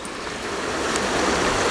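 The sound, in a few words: running river water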